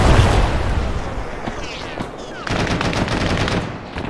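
Gunfire in the military shooter Arma 3, with loud, dense bursts of shots and booms throughout, briefly easing midway and then picking up again.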